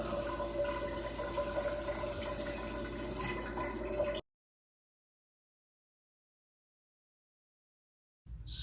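Water runs steadily from a tap at almost full stream, a continuous close hiss for about four seconds, and then stops abruptly, leaving silence.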